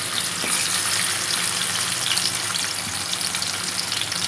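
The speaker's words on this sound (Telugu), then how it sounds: "ఇప్పుడు ఆనియన్స్ వేసేస్తాను" Onions frying in a pan of hot oil with shahi jeera, cinnamon, cloves, cardamom and a star anise, a steady close dense sizzle with faint crackles and stirring throughout.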